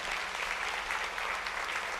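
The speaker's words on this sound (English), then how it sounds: "just one more round of applause for Patty" A round of applause from an audience at a church gathering, a thick, even wash of many clapping hands, steady and unbroken from start to end.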